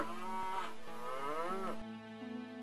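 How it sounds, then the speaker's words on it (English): A cow mooing, one long, loud, close, drawn-out low call with a wavering pitch, followed by a brief quieter tail. "C-O-W, cow."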